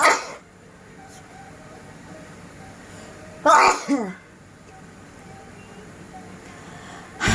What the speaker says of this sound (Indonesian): Bentar mau bersin.